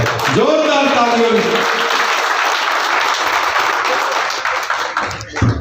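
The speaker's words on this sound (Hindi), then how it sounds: "जोरदार तालियों।" Loud applause from a crowd, dense continuous clapping that holds strong for several seconds and then thins out, with a voice audible near the start.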